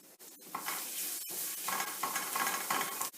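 Garlic sizzles in olive oil in a pan, a steady close hiss broken by a few soft stirring clicks, with no talking.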